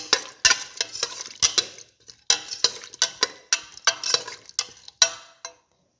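Potato bread stir fry mixture being stirred in a pan, a rapid series of sharp scraping and clacking strokes, close and fairly loud, with brief pauses before it stops.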